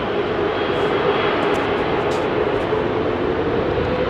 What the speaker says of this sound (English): All the 300 variants, all the 777-300 variants operating the General Electric GE